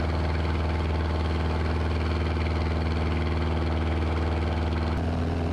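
A small airplane engine idles before takeoff from runway 22 with a loud, steady, throbbing drone close by, unchanging throughout with no talk.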